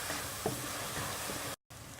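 Salt being stirred into chicken rezala in a hot pan, a steady close sizzle with faint scraping of the spoon, briefly cut off near the end.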